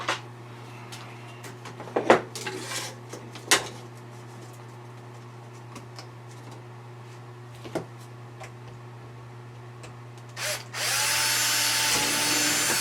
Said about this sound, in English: But first thing I'm going to do is drill a hole